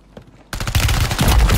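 A Reclaimer 18 shotgun fight in a video game: a loud burst of rapid, overlapping gunshots starts abruptly after brief quiet and continues densely to the end.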